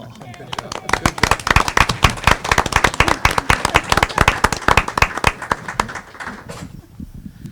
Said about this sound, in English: Could we get another round of applause for them?